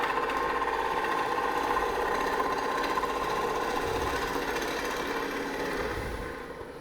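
A wood lathe hums steadily while a turning tool hollows a platter, giving a continuous whirring drone with a faint scraping texture throughout.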